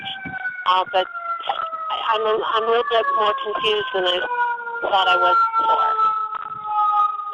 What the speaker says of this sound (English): Excuse the siren going by.